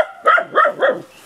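A dog barks three times in quick succession, sharp and fairly close, with no one speaking over it.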